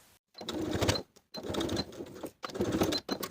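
A sewing machine bastes the top of a pocket onto a front piece of carpenter pants in three close bursts of steady mechanical stitching, separated by short pauses.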